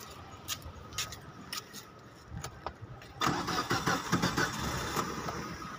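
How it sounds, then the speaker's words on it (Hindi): A Suzuki Alto VXR is started close by: faint clicks and clatter come first, then the starter cranks briefly and the engine catches and settles into a steady, fairly quiet idle. "ये गाड़ी मैं आपको स्टार्ट करके दिखाता हूँ।"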